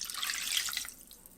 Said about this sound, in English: I think I'm just gonna add another cup of water